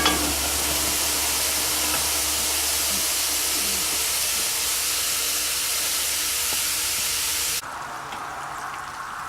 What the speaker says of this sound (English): Okay, the sausage and bacon are browning up.